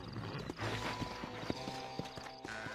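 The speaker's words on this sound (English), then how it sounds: "We are going to ride on Lord Saddler here" Horse hooves clip-clop steadily in a video game as the rider travels on horseback, a brisk, evenly spaced trot with game ambience underneath and no talking.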